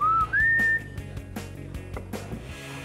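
Someone painting during a home renovation whistles a short rising tune, two bright sustained notes up close, followed by quieter clattering and work noises.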